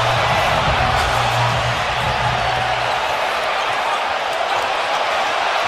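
A loud basketball arena crowd roars continuously, a dense wall of cheering and buzzing that holds steady throughout.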